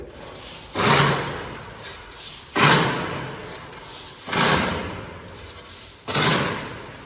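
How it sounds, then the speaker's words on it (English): A door on a farm during wheat hauling is slammed shut, giving four heavy, booming thuds spaced evenly about two seconds apart, loud and close with a short ringing tail after each. "I'm shutting up that door"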